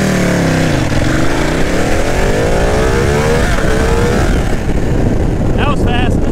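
Ducati motorcycle accelerating hard from a dead stop up to 60, a loud, close engine roar rising steadily in pitch through the gears over wind rush, with a rider's voice briefly near the end.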